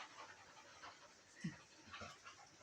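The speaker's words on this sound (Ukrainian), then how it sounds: "Щаслива собака." A dog pants quickly and steadily at close range, with a brief whimper-like sound midway; no talking.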